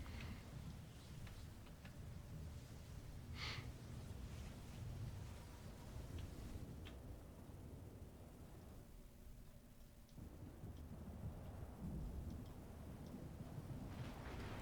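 A thunderstorm with a lightning bolt and hailstones cast as a power in the video game City of Heroes, a steady rumbling roar of rain and thunder with a few sharp crackles throughout.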